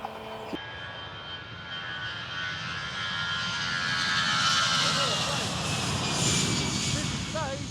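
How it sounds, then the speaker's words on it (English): A fixed-wing airplane flies over a golf course fairway, a broad engine roar that slowly swells louder as it passes, with a voice talking faintly beneath it. "Planes are going now all over the world, aren't they"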